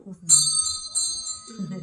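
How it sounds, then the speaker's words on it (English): A historic servant call bell, rung by a wire turned from a handle in another room at Dundurn Castle in Hamilton, chimes with a bright, ringing strike and repeated quick jingles that fade, while people talk over it. "Turn the handle, the wire moves. The bell rings"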